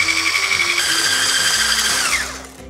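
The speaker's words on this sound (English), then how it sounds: "we're gonna beat until they turn a pale yellow" An electric mixer beats eggs with sugar in a steady, loud, high-pitched whir. The pitch shifts partway through and winds down at the end.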